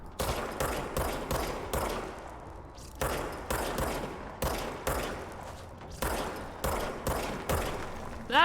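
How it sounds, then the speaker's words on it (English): A handgun in the video game Control fires loud, evenly spaced single gunshots in a regular rhythm, about a dozen in all, each ending in a short echoing tail. "Look at her firing her gun like a cool guy."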